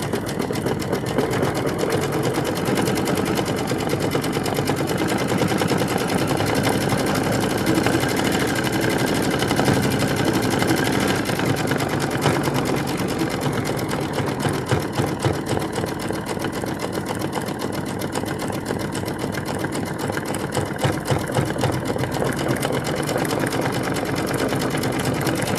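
A sewing machine runs steadily, stitching a shiny satin stitch on a quilted wall hanging, its fast even hum continuous and close for the whole stretch with no talk.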